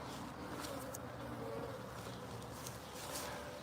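Honeybees buzz steadily around an open hive during a honey harvest, a continuous close swarm drone with a few individual bees passing near.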